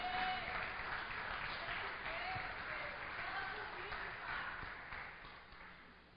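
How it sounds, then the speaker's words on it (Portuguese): A church congregation applauds steadily, a dense wash of clapping that sounds distant and muffled, slowly tapering off. "Pode aplaudir"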